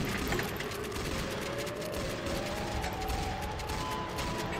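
Dense, continuous gunfire rattles steadily through the whole stretch in the Roblox Siren Head game, a busy layered clatter with no voices on top.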